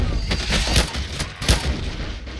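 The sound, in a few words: gunshots at gas canister in Left 4 Dead 2 video game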